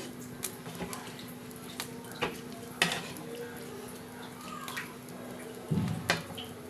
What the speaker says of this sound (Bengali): এবার একটু ভালো করে নাড়াচাড়া করে নিতে হবে